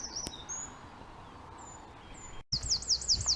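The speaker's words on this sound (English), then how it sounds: "the dawn chorus is going. The birds are going." Songbirds calling across open countryside at dawn, scattered chirps and whistles at moderate distance, growing louder and busier toward the end.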